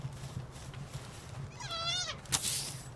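A single wavering bleat from a sheep in the video game Palworld, heard alone over a low steady background hum and followed by a brief rustling burst.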